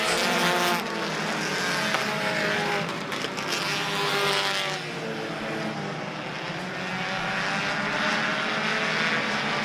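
Race cars roar around Citrus County Speedway, several engines blaring loudly together in a steady, close pack with rising and falling pitch as they pass, plus a brief tire squeal.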